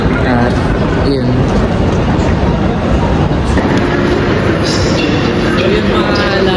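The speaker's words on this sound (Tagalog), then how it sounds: "Sasakay na po pala ng train." A train rumbles at an Italian railway station with a steady, loud, dense roar. Partway through, a thin high whine joins it, and there is no break in the noise.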